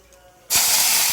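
Mustard seeds dropped into hot oil for a Kerala payar thoran set off an abrupt, loud, continuous hiss and crackle that starts partway in and holds steady to the end.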